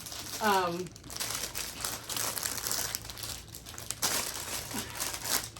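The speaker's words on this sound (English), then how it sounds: "Sorry for all the crinkling." Packaging crinkles and rustles through most of the stretch, a dense crackling texture while yarn minis are handled, with a brief voice-like tone early on.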